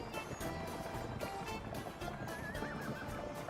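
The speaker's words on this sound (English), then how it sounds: "The train can pick up stuff way faster than the horses can bring it." Horses hauling goods in a 1900-era republic-building video game neigh and whinny while hooves clip-clop steadily throughout, fairly loud and continuous with no talk over them.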